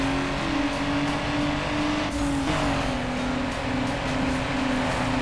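Racing car engines, including a Nissan, in the Need for Speed: Underground street-racing video game, a steady loud droning hum with a rising and falling whine as cars pass, continuous throughout.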